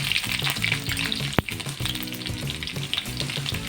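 Garlic and mustard seeds crackle and sizzle steadily in hot sesame oil for a mango pickle, with a busy, continuous frying hiss, low spatula scrapes and one sharp click partway through, no voices.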